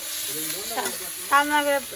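Food fries and is stirred in a hot kadai after a light splash of water and some salt; a brief hissing sizzle with voices over it.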